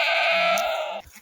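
A single close, drawn-out bleat from a Kathiyawadi goat at a farm breaks off abruptly after about a second.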